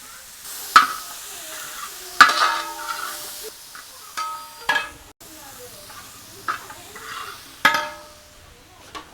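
Sliced onions and curry leaves sauté in coconut oil for a catering-style beef roast, a low sizzle broken by repeated stirring scrapes and clanks of a spoon against the pan.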